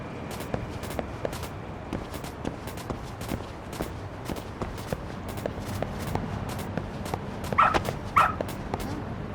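A dog in the video game Lost Judgment gives two short, close barks near the end, over a steady background of repeated footsteps and ambient game sound.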